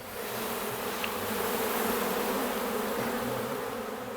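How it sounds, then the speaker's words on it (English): Lots of bees swarming over a person's hands at an outdoor tailgate talent show, a dense, steady buzzing hum that stays close and constant throughout, with no talking. "so that's lots of bees"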